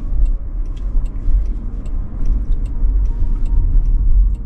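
Interior hum of a driverless robotaxi moving through busy city streets, a steady low road rumble with faint rhythmic ticking over it.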